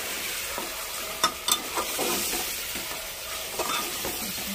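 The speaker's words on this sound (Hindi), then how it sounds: "डालने के बाद इसको फिर से हम भूनेंगे" Mutton with yogurt frying in a pan while being stirred for a kurma, a continuous hiss of sizzling with a few sharp spoon scrapes and knocks, close and alone.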